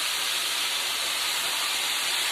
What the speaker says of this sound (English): It's frying at a high temperature.